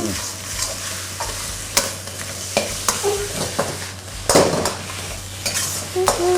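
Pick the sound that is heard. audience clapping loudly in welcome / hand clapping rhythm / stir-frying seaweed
stir-frying seaweed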